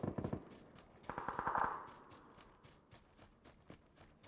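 Video game shotgun blasts: a quick burst of sharp shots near the start, then a denser volley, then scattered fainter shots trailing off.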